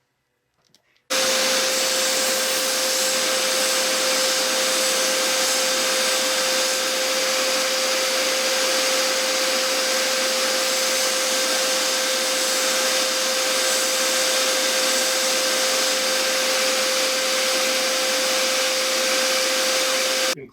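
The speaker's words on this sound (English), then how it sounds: "that's the 1-inch belt, 5-inch disc sander that we've been selling for many years" A benchtop sander with a 1-inch belt and a 5-inch disc grinds against wood in one steady, loud, continuous whir that starts abruptly after a second of quiet and holds for about twenty seconds.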